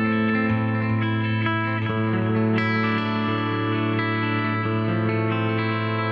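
An electric guitar plays sustained, distorted chords through a Boss Waza Tube Amp Expander with compressor, delay and reverb, the notes smeared with echoing repeats and a wash of reverb, loud and continuous.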